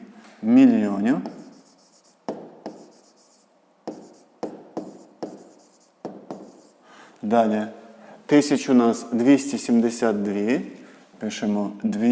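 Numbers are written on a board in several short bursts of tapping and scratching strokes. Someone talks in Ukrainian between and over the writing.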